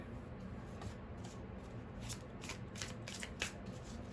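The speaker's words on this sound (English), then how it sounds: "Shuffle a few more times with my Muse Tarot deck here" A deck of tarot cards being shuffled repeatedly, a soft riffling and rustling with brief crisp flutters, close by and otherwise quiet.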